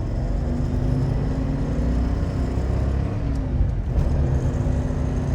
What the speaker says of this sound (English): definitely sounds nice going down the road and revving up here